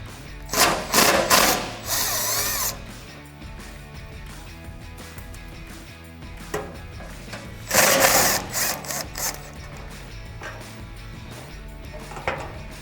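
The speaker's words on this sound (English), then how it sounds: "So we're going to remove them with our gun and our 12 millimeter." An impact gun with a 12 mm socket removes the front bumper bolts on a Toyota Tundra in two loud, rattling bursts about two seconds long, separated by a quiet gap of soft handling noise.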